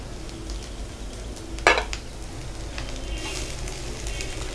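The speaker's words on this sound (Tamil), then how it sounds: "இப்போ நம்ம தனியாத்தூள் மிளகாத்தூள் இதையும் நம்ம மிக்ஸ் பண்ணிக்கலாம்." Coriander and chili powder stirred in a hot pan, a faint sizzle under one sharp utensil scrape against the metal, then a hissing rise.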